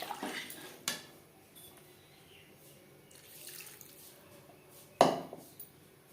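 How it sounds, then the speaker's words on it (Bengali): Water pours into a pan of potato and pointed gourd curry, a short splash with a couple of sharp clanks. Otherwise the kitchen stays fairly quiet. "দিয়ে দেবো জল"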